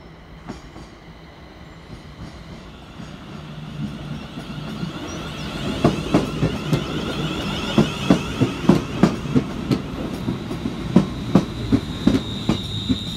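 A Scotrail class 380 electric train pulls into a suburban station, its hum rising as it nears, then a steady run of wheel clicks and clunks over rail joints, with faint squeals, loud and close.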